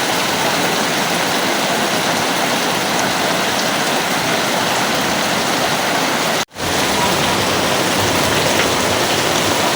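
Heavy rain from a Kalbaishakhi storm pours down around a damaged village house, a loud, unbroken wash of water that cuts out for an instant partway through before resuming at full strength.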